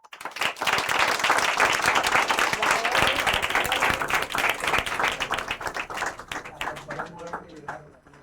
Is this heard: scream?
no